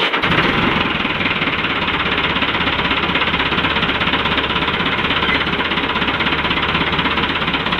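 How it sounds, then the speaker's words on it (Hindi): A Massey Ferguson 375 shovel loader diesel engine runs steadily, a loud, dense knocking rumble that continues without a break, recorded close up. "अभी हम आपको स्टार्ट करके दिखाते हैं, साउंड चेक कराते हैं गाड़ी का।"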